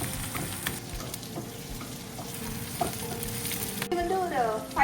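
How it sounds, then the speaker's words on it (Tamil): Onions, ginger and garlic sauté in a pan with a dense, close sizzle and crackle, with stirring scrapes and knocks throughout and a brief tonal squeak near the end. "வெங்காயம், அந்த இஞ்சி பூண்டு இதெல்லாம் நல்லா வதங்கணும்."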